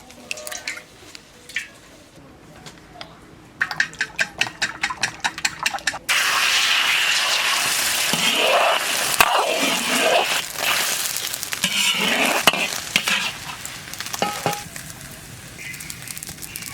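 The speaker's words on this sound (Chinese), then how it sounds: "碗里打进鸡蛋，先炒鸡蛋。" Beaten eggs go into a hot wok and set off a sudden loud, broad sizzle and crackle that keeps going. Before that come a few seconds of quiet kitchen clicks and taps.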